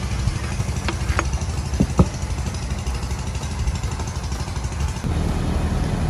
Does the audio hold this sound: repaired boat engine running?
yes